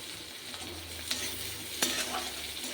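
Onion, mustard seeds and dried red chillies fry in hot oil for a banana-stem poriyal, a steady low sizzle with a couple of sharp spoon-against-pan clinks, no one speaking.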